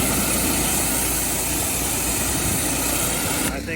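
A gas pressure washer with a Honda engine runs steadily up close, a loud, constant engine drone mixed with hissing spray that holds level for a few seconds before easing slightly at the end.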